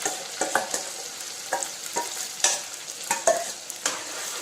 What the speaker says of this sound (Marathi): टमाटर टाकल्यानंतर थोडी पेस्ट टाकते आहे ग्रेव्हीसाठी.